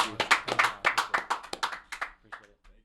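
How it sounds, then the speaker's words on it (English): A small group claps in a podcast studio: a quick run of sharp, distinct hand claps that thins out and fades within about three seconds. "Can we get a round of applause?"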